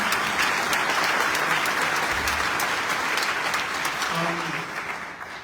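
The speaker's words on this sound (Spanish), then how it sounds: "Fuerte aplauso." Strong, dense applause fills a hall at a tribute event honouring Zelmar Michelini fifty years on, sustained throughout before easing slightly at the end.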